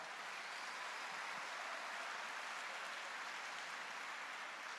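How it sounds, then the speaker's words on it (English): Applause from a graduation audience at an NC State engineering recognition ceremony, a steady, even wash of many hands clapping that is heard from a distance and stays level throughout. "Give yourself one more round of applause."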